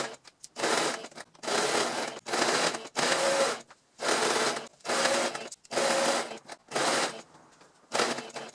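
A sewing machine stitches a fabric glasses case in repeated short bursts, about eight runs of close, loud mechanical whirring separated by brief pauses, with no voices.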